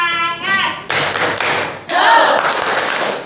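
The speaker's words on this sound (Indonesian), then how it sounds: "Tepuk semangat." A classroom of students on their feet performs a rhythmic spirit clap in a school setting, loud clustered bursts of clapping in successive phrases that follow a brief spoken voice at the start.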